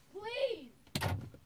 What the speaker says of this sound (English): Open the door! What do you say?